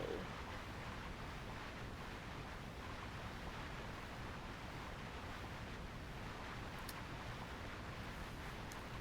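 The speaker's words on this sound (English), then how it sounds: "Waterfall." Steady, dense rushing water from a waterfall in the Castlevania: Aria of Sorrow video game, a continuous broadband roar that holds at an even loudness throughout with no breaks.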